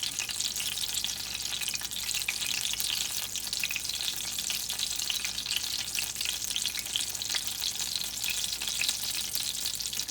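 Apple turnovers made with canned apples deep-frying in oil, a steady, dense sizzle with fine crackling that holds evenly throughout at close range, with no talk.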